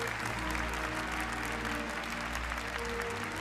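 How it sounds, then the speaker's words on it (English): Sustained applause from a large crowd at the Gran Turismo World Series Nations Cup esports award ceremony, steady and dense throughout as the third-place finisher takes the stage. "Pol Urra being congratulated by the crowd"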